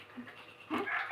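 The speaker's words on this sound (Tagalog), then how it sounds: "Tingnan mo yung aso ay nagpapagaya." A dog pants softly and then gives a short whimper, close to the microphone and at moderate level, with a faint voice in the background.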